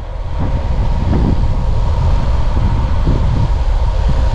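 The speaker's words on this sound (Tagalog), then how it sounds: "Lakas ng hangin!" Loud, steady roar of strong wind blasting across the microphone at the Pililla windmills, heavy and continuous with slight surges.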